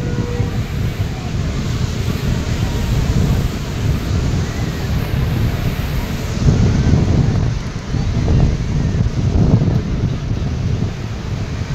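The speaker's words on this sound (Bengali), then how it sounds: "শব্দটা ঢেউয়ের কি যে ভালো লাগে" Ocean waves break steadily on the beach at Puri, a broad roaring wash that swells in surges over continuous wind buffeting the microphone, with no one speaking.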